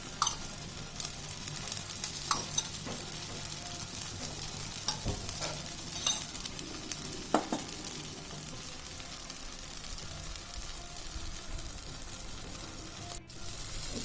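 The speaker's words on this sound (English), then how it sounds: "We will do another dosa in the similar way. Put a little bit of oil." Atta dosa fries in a little oil on a pan with a steady, soft sizzle throughout, plus occasional light scraping and ticks from handling.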